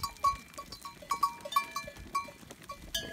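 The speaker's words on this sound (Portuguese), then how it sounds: "em algumas cabras que já estão prenhas" Pregnant goats in a pen bleat in short, quiet bursts, mixed with light tinkling bell-like tones and soft movement close by.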